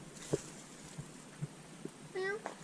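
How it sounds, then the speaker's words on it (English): A small, fairly tame cat meows once with a rising, drawn-out call inside a derelict poultry farm building, fairly near and faint against quiet background with a few soft knocks. "It's a little cat, look."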